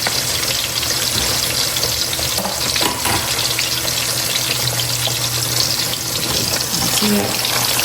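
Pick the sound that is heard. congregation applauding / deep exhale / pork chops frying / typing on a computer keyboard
pork chops frying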